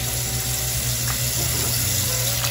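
Trout being washed under a running tap, a steady close hiss and splash of water flowing over the fish, fairly quiet with no talking.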